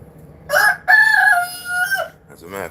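A rooster crows once, loud and nearby, in a single drawn-out cock-a-doodle-doo lasting about a second and a half, followed by a faint, short sound from the chickens in a quiet farmyard.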